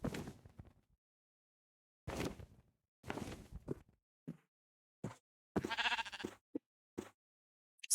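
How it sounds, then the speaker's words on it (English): Blocky sheep bleating in Minecraft, several short separate cries spread across the moment with quiet gaps between, plus a few faint soft steps, no talk. "Oh, there's a sheep."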